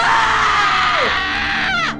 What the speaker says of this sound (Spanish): Pero de pronto, un horrible grito,